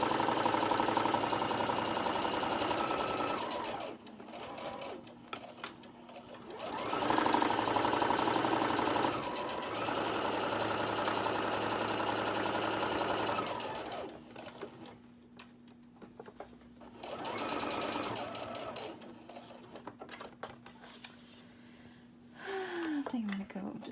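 A sewing machine stitches a boxed-bottom cosmetic bag in steady mechanical runs. It stops briefly several times, and a person talks during the pauses.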